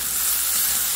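Fried chicken with garlic and ginger paste sizzles steadily and loudly in a pan while being stirred, a continuous bright frying hiss with no talk.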